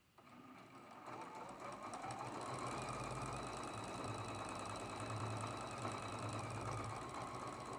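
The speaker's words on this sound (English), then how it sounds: "we're going to sew all of these seams with a 1/4 inch seam allowance" A sewing machine runs steadily while stitching quarter-inch seams on a traditional Double V quilt block. The hum is continuous and fairly quiet, building slightly after the start, with no talk.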